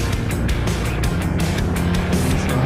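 A motorcycle engine runs hard during an afternoon ride through busy streets, producing a loud, steady drone with rushing wind noise throughout and no talking.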